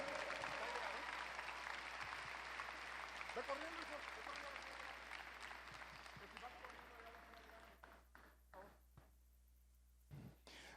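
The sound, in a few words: congregation applause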